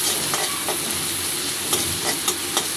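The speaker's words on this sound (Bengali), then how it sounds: "পেঁয়াজটা খুব বেশি ভাজবো না শুধু একটু নরম হয়ে যাবে" Onion and vegetables fry in a pan with turmeric, giving a constant close sizzle broken by regular stirring clicks and scrapes.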